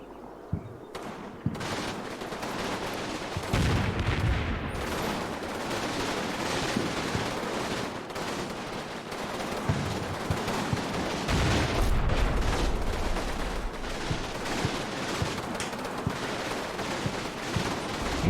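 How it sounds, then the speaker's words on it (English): Wargame battle with artillery shell blasts and rattling gunfire, a dense, loud, continuous barrage of bursts and booms lasting throughout, with no talk over it. "that was our own artillery shell"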